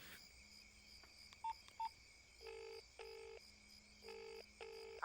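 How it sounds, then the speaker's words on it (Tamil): Phone number being dialled: a quick string of electronic keypad tones, some short and others longer, heard close and alone at a low level with no talking. "சுரேஷ்க்கு ஒரு ஃபோன் போட்டு வரணும்னு சொல்லிடுறேன்."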